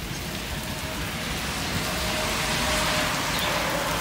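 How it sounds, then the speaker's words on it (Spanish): Heavy rain pouring down during a thunderstorm, a dense continuous hiss of drops on surfaces that stays loud and steady throughout, with no speech over it. "Por todos lados está lloviendo mucho."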